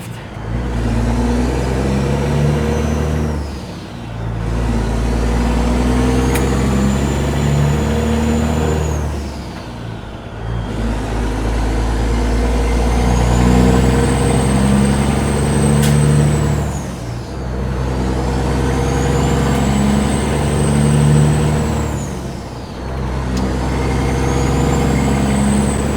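A Peterbilt 389 glider truck with a 6NZ engine pulls out of a lot, its deep diesel rumble rising and falling through repeated gear shifts, with long pulls punctuated by short dips as the engine revs climb and drop, loud and close.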